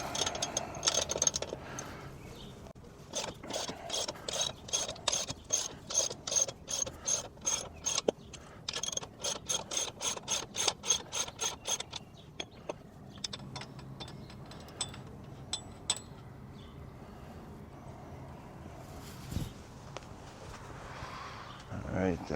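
A ratchet with a 17mm socket cranks loose the axle nuts on an Icebear Fuerza 125 ATV, with fast bursts of sharp clicking pawl ticks, short pauses between runs, and a quieter stretch of scattered handling noises near the end.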